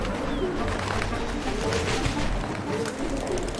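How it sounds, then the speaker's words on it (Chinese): Pigeons coo amid a steady, busy wash of background noise, with the birds' calls blending into the continuous din rather than standing out sharply. "这样放鸽子太危险了"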